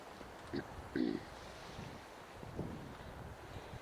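Steady wind blowing on Øster Sømarken beach on Bornholm, Denmark, rumbling as a constant low roar across the microphone with a few stronger gusts and faint surf beneath.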